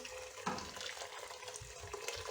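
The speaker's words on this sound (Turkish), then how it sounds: "Mercimeğimin üzerine bir miktar daha su ekleyeceğim." Water pours steadily into a pot of lentils, a soft continuous splashing and trickling heard close up, with no talking.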